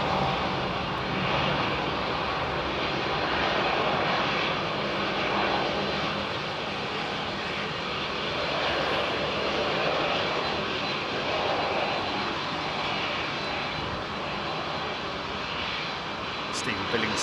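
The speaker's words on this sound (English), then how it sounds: "Why you hear the engines power up." Aircraft engines spooling up at London Heathrow airport, a loud, continuous roar heard from a distance, with faint voices underneath.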